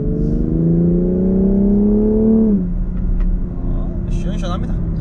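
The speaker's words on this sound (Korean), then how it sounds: "그냥 배기 사운드도 아주 듣기 좋고요" A BMW X3 M's exhaust note while driving: the engine tone climbs steadily, then drops and settles into a lower, even drone, with someone talking over it.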